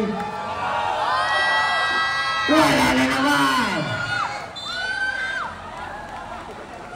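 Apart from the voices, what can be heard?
basketball game audience cheering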